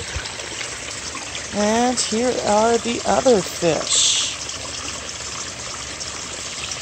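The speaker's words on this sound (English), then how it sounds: "This hose, sometimes I just let it drip slowly." A hose feeds water into an outdoor koi pond in winter, making a steady, quiet trickle that runs throughout, while someone talks over part of it.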